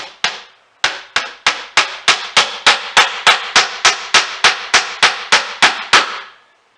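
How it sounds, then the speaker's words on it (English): Sharp metallic hammer blows drive a nail into tongue-and-groove knotty pine boards in a steady, quickening series of about eighteen hits, loud and close, each ringing briefly before the next. "That way you can drive it into the wall a little deeper"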